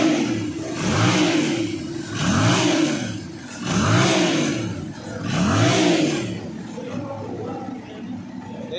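A Yamaha MT-07 motorcycle engine is revved repeatedly up close, four rising and falling blips of the throttle swelling then dropping back to idle, with voices speaking faintly nearby.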